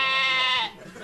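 A sheep bleats loudly and up close, one long harmonic-rich call lasting most of the moment before it cuts off into quieter background.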